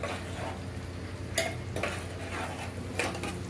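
A spoon scrapes and clatters in a pan of frying onions and whole green chillies, several distinct metallic knocks over a constant soft sizzle, close and fairly quiet.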